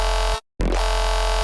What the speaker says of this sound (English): So this is a sawtooth,